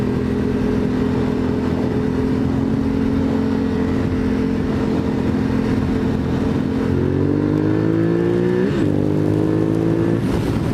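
A Honda CBR 954RR sport motorcycle accelerates hard, its loud engine holding a steady high drone before climbing through a gear change and revving higher again, close and continuous with no talk.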